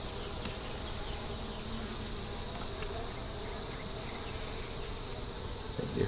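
A steady, dense buzzing of many honeybees around an open hive fills the air close by, continuous and unbroken, with no voices.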